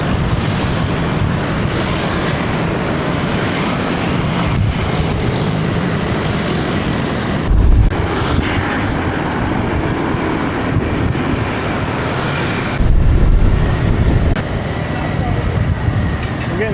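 Riding pillion on a motorbike through Vietnamese streets: a steady rush of wind buffeting the microphone over a continuous engine drone, with a couple of brief heavier low thumps along the way.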